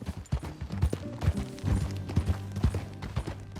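Horse hooves clop in a steady, rhythmic gait while riding in the video game Red Dead Redemption 2, close and moderately loud with low rumbling underneath.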